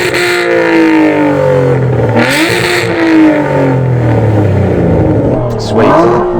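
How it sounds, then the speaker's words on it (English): Aston Martin car engines revving loudly up close, several rising and falling rev sweeps over a steady sustained roar. "Okay, let's do a sound check. Go on, rev yours up."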